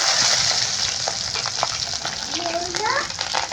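Chopped garlic, green chilies and panch phoron fry in hot oil, a close, steady sizzle with crackles and occasional stirring clinks, plus a brief faint tonal squeak near the end.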